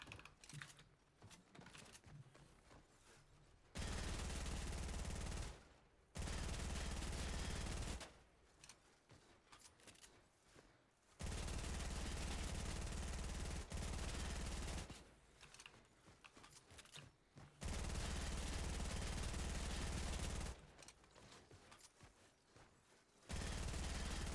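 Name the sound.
SMG gunfire in a video game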